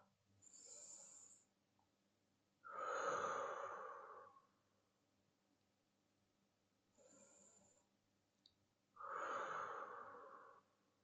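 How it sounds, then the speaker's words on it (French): Slow, calm breathing during a guided relaxation exercise, with soft inhalations alternating with longer, louder exhalations through the mouth, close and quiet, repeated twice. "J'expire par la bouche. J'inspire."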